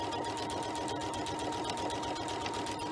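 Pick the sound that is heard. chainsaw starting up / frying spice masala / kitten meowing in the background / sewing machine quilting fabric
sewing machine quilting fabric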